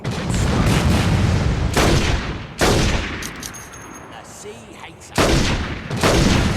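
Gunfire in the Saints Row 2 video game: loud, dense bursts of shots in three long volleys separated by brief lulls filled with lower rumbling action noise.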